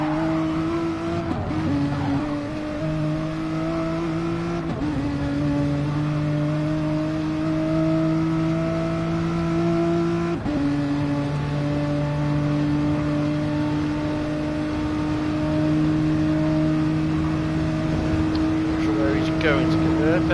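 Onboard a Datsun race car at Le Mans, the engine drones loudly and steadily, its pitch climbing through the gears with a few shift breaks between.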